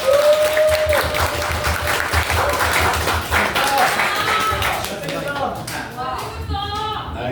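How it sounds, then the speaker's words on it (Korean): Church congregation applause at a Sunday worship service welcoming a pastor, a steady wash of many clapping hands over the whole stretch, with speech and some music heard alongside and fading slightly toward the end. "박수로 한번 환영해 주시면"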